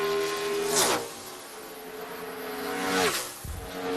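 NASCAR race car, the 09 car, on a qualifying lap, its engine whining at high revs with two sharp pitch drops as it passes close, loud and continuous with no talk.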